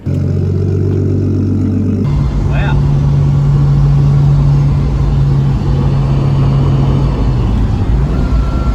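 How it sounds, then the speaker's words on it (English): A turbocharged Nissan R31 wagon drift car accelerating hard from second into third gear, its engine droning steadily with a brief dip at the shift, loud and continuous throughout. "it just did a 2nd to 3rd pull and felt pretty good"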